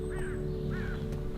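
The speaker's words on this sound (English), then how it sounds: "See that jackdaw?" A jackdaw gives two short, sharp calls about half a second apart, clear above a steady low hum in the background.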